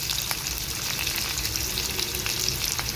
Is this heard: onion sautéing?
yes